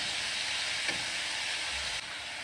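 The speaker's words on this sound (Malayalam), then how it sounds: "ടൊമാറ്റോ നന്നായി ഇളക്കി ചേർക്കാം." Chopped tomato is stirred into carrot curry sizzling in a pan, giving a steady close frying hiss that drops slightly near the end.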